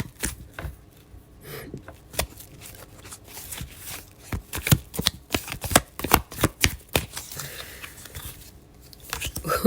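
Tarot cards are pulled and shuffled close by in a run of quick, crisp riffling and slapping bursts that grow louder and denser toward the end, with no talking.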